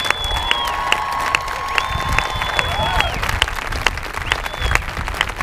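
Loud audience applause and cheering fill a marching band showcase at Towson High School, a steady dense wash of clapping with scattered shouts and a few whistles running throughout.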